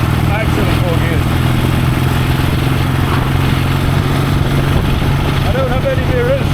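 An old barn-find BSA motorcycle with a cracked engine cylinder runs loud and close, a steady rough engine drone filling the whole stretch with no let-up.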